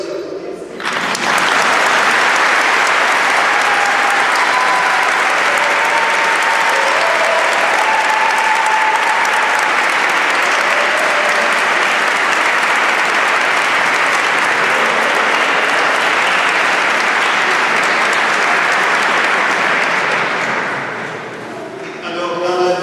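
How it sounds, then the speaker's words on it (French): Wedding guests in a church applaud the newly married couple, a loud, sustained clapping crowd that swells quickly and holds steady for about twenty seconds before fading out, with a few faint voices calling over it. "Est-ce qu'on ne peut pas les applaudir?"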